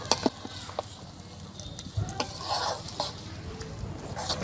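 Mutton keema and boiled dal being stirred together in a pot for khichuri, with scraping spoon strokes and light clinks over a soft sizzle, moderately quiet, with no talking.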